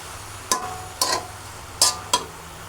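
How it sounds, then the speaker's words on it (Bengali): Malabar spinach and prawns being sautéed in a pan, four separate sharp clacks of a spatula knocking against the pan at uneven intervals over a low steady background. "এখন সুন্দরভাবে কষিয়ে নেব।"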